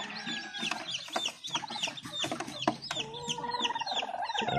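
A brooding hen clucks in a series of short, close calls, mixed with busy high chirping throughout.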